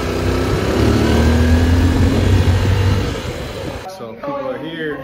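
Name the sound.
motorcycle engine while riding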